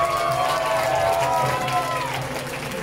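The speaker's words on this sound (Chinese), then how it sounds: "大家鼓掌欢迎。" A concert audience applauds to welcome a performer onto the stage, a dense steady clapping with a crowd murmur beneath and a voice speaking over it.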